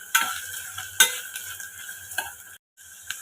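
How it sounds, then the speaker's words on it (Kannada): Carrots, beans and peas sizzle in a pan while a spoon stirs them in sharp, scraping strokes. The scrapes fall at irregular intervals over a steady fry, with a brief full silence just before the end. "ಕ್ಯಾರೆಟು, ಮತ್ತು ಬೀನ್ಸು, ಬಟಾಣಿ ಇದೆಲ್ಲ ಫ್ರೈ ಮಾಡ್ಕೊಳ್ಳೋಣ."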